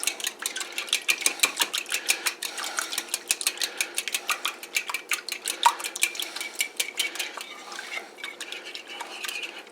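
A whisk or fork beats eggs and milk in a bowl, making quick, rhythmic clinking taps against the side in a steady, close-up patter that runs throughout without speech.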